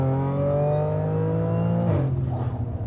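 A supercharged 2012 Audi S4 with about 465 wheel horsepower pulls hard, its loud steady engine drone and whine holding, then dropping sharply at a shift before rough roaring continues.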